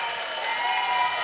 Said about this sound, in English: Kaizen MMA always brings a loud crowd.